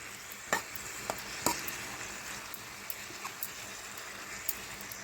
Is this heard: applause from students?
no